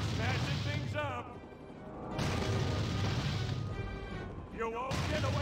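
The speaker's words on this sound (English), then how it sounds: "I sure love smashing things up." Giant Plankton smashing things in the SpongeBob SquarePants GameCube game: loud, continuous crashing and booming impacts with rumbling destruction, punctuated by brief character voice lines.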